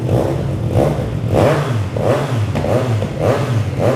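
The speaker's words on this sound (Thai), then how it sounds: "เดี๋ยวมาฟังเสียงท่อคันนี้กันปลายเป็นคาร์บอนแท้ด้วยนะครับ" A 2022 Triumph Trident 660 three-cylinder motorcycle with a genuine carbon-tipped exhaust revs repeatedly up and down at close range, loud throttle blips in a steady rhythm over a constant idle rumble, no one speaking.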